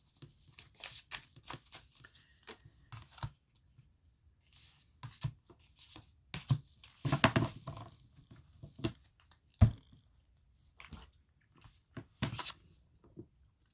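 Tarot cards are shuffled and riffled in scattered bursts of soft slaps and rustles, with quiet pauses between.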